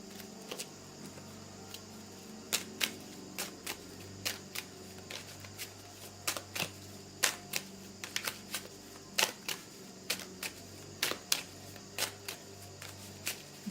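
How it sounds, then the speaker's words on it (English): Tarot cards shuffled by hand at close range, a run of crisp, irregular riffling snaps and soft slides repeating over a quiet background, with no talking. "I'm just going to keep shuffling."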